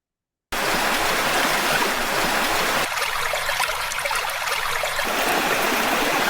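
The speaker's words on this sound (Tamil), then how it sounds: "கடல் கிட்டத்தட்ட கடல் சவுண்ட் மாதிரி" An AI-generated sea water sound: a continuous, loud broadband wash of rushing water that starts abruptly after a brief silence and holds steady, with a slight change in tone midway.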